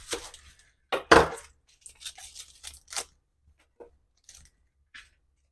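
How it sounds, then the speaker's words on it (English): A knife dices an onion on a cutting board for red beans and rice, giving a handful of sharp, close chopping and crunching strikes with an irregular rhythm and quiet pauses between them. "Now we're going to dice this onion."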